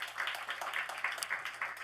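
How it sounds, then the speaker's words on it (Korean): Congregation in a church service applauding children, a soft, steady patter of many hands sounding distant and faint, continuous with no talk over it. "우리 아이들을 한번 격려하고 축복하는 우리 박수 한번 주도록 하겠습니다"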